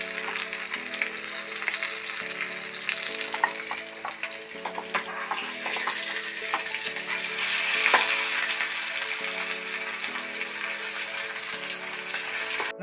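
Banana flower cutlets fry in hot oil with a steady, close sizzle and occasional stirring scrapes. Soft background music with stepped tones plays along the whole time.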